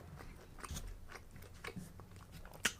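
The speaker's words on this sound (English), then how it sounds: "I could eat this, no joke, just the crust, and I'd be happy, like no insides" Calzone crust bitten and chewed close up, with quiet soft crunches and moist chewing in an uneven rhythm and a sharp click near the end.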